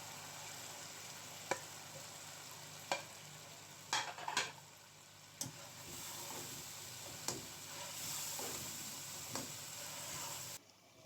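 Okra sizzles steadily in masala frying in ghee, with occasional sharp clinks of a spoon stirring against the pan, close and fairly quiet.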